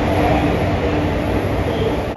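The Circar Express from Kakinada Port to Chengalpattu pulls into Rajahmundry station running late, giving a loud, dense, unbroken rumble of rolling rail cars heard close by.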